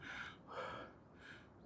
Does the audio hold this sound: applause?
no